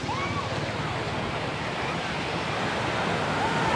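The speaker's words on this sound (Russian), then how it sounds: "Вот, друзья, мы раз и на пляжике." Continuous roar of surf rolling onto a gently sloping beach at Kamala, Phuket, Thailand, with a low wind rumble underneath and no pauses.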